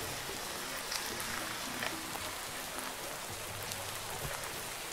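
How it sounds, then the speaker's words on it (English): Heavy rain in a Minecraft modpack game world, a steady hiss of downpour with scattered drop patters, constant and moderately quiet, no voices. "the rain's really coming down"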